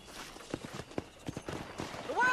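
Horse hooves clip-clopping in the Western video game Red Dead Redemption, a brief run of evenly spaced, moderately loud steps heard under game voices and ambient sound.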